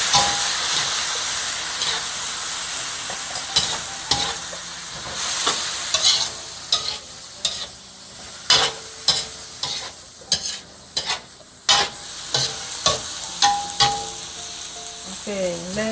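Chicken and soy sauce stir-frying in a pan for pancit bihon, a steady loud sizzle and hiss with repeated scraping stirs of a utensil, rhythmic toward the end.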